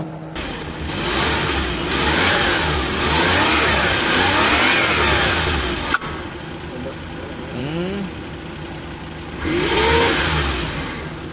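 A Suzuki K6A turbo engine in a DA64W van revs hard in repeated rising bursts, then drops toward idle before a final rev, loud and close with little talk.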